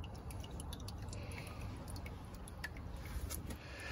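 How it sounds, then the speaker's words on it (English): Transmission oil from a Ford PowerShift filter housing drips steadily in a soft, continuous patter under a faint background hiss, close to the microphone. "As it will drip all over."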